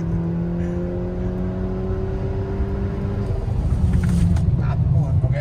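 A Volkswagen Jetta TSI with a stage 3 tune and big turbo intake revs up, its engine tone climbing steadily before a louder surge of intake and exhaust near the end, with people talking over it.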